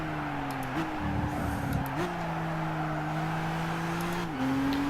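A race car in the Gran Turismo game braking into a corner, its engine note holding steady and then dropping and shifting in pitch, with a short rough tire scrub midway, close and continuous.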